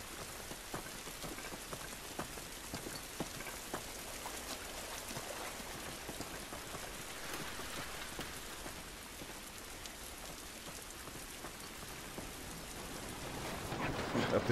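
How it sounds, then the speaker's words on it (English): Steady rain pours throughout a scene in the video game The Last of Us, a dense continuous patter with scattered louder drops, swelling slightly near the end. "This rain ain't gonna do us any good."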